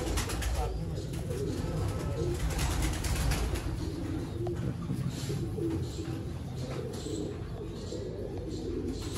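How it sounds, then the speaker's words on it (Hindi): Sialkoti Sheikh pigeons cooing steadily through a continuous low, rumbling backdrop, soft throaty coos repeating nearby amid faint bird chirps. "ਇਹ ਪਿਓਰ ਸਿਆਲਕੋਟੀ ਸ਼ੇਖਾਂ ਵਾਲਾ ਕਬੂਤਰ।"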